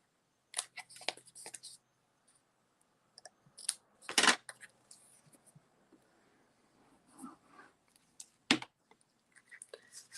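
Scissors trim a paper strip at a crafting table in a few separate bursts of crisp snips and rustles, close and fairly quiet, with silent pauses between cuts.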